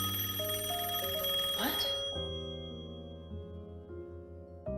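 A telephone rings in a repeating melodic electronic pattern, loud and close, for the whole stretch, with a brief spoken word over it.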